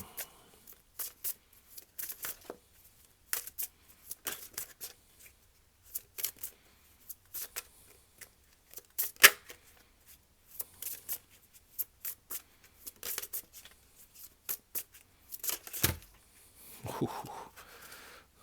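Tarot cards being shuffled for a reading: quiet riffles and soft slaps come in irregular bursts over a near-silent room, ending in a longer rustling shuffle.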